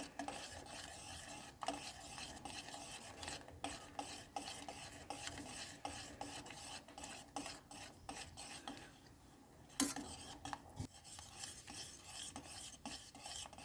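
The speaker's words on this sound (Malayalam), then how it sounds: "നന്നായിട്ട് ഇളക്കിക്കൊണ്ടിരിക്കണം. കട്ട കെട്ടാതെ ഇളക്കിക്കൊണ്ടിരിക്കണം" Custard mixture being stirred into boiled milk in a pot for fruit custard: faint, continuous scraping and rubbing strokes repeat in an uneven rhythm, with a soft bubbling sizzle underneath and one louder knock partway through.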